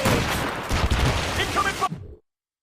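Ship cannons fire in broadside during a naval battle in Assassin's Creed Rogue, a loud dense barrage of overlapping booms and crackling blasts with a voice shouting over it, ending abruptly in silence.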